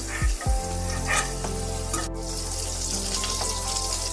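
Chopped onions fry in the oil left over from frying prawns, giving a steady close sizzle. Two heavy thumps open the sound, then light stirring scrapes and clinks follow, with no voices.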